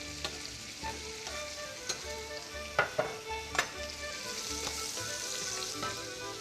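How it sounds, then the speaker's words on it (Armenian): Potatoes and meat sizzle and fry steadily in a pan, with occasional sharp clinks and stirring scrapes over the constant crackle, close up with no talking. "տապակենք մսի հետ գետնախնձորը"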